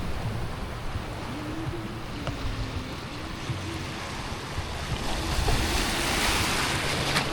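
Ocean waves and surf wash steadily along a provincial shoreline, with a rough, continuous roar and gusts of wind buffeting the microphone; a faint low engine hum runs underneath, and the surf swells louder toward the end.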